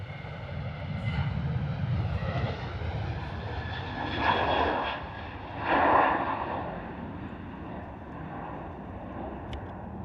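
A TUI Boeing 737 departing London Stansted roars steadily at a distance, its broad engine rumble swelling twice as it climbs away, with no talking.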